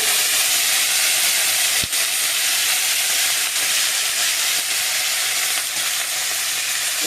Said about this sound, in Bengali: এবারে পটল ভাজাটা বসিয়ে দেবো।